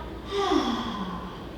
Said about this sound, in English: Let's exhale through the mouth.